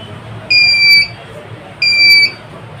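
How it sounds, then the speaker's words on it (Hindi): A homemade electrical diabetes tester gives two identical high electronic beeps, each about half a second long and roughly a second apart, loud against a quiet room murmur. "तो ये बीप बजेगी"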